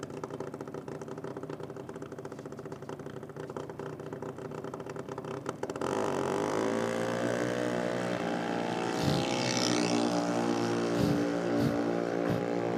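A junior dragster engine idles steadily at a nitro drag racing event, with an even, buzzing drone that grows louder partway through, running alone without any voices.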